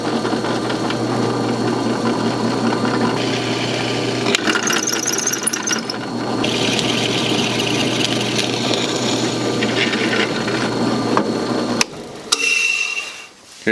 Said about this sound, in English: Here at the drill press I have center punched the holes that I'm going to drill in the square tube